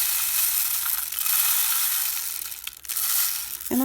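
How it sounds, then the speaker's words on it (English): Dry rice pours into a homemade rain stick tube, a continuous close hissing, granular rush that dips briefly near the end. "before we put the cap on, we're going to need to put the rice in there"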